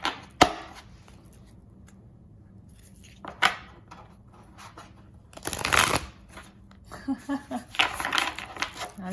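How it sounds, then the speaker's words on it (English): Oracle cards from a new deck shuffle in a few short riffling bursts, with small taps and handling noises between them, close up. "They shuffle pretty smoothly."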